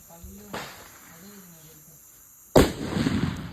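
A Fat Boy firecracker bursts after Diwali with one sudden loud blast near the end, then rumbling crackle. Earlier a smaller pop sounds and voices talk.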